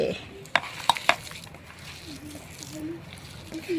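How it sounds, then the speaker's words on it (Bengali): Roasted potato and eggplant for bharta are squished and kneaded by hand, giving a few sharp wet clicks followed by softer squelching, with a faint voice in the background. "এবার ডলে ডলে মাখতে হবে।"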